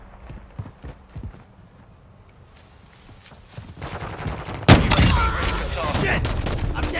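In Call of Duty MW2, quiet footsteps and soft clicks come first, then a sudden loud crack opens into heavy, sustained gunfire that keeps going to the end.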